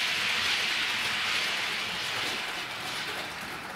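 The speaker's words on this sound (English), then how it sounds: "Can you hear where it's in the ballast? It actually sounds like a real train." A model train rolls along track laid on cork with ballast, giving a steady, close rumbling rush that fades slightly toward the end, with no voices.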